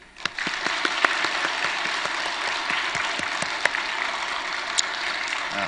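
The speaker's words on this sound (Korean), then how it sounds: "축복하는 박수 한번 합시다." A church congregation breaks into blessing applause for its children and youth students. The clapping is dense and sustained, with sharper individual claps standing out against the crowd.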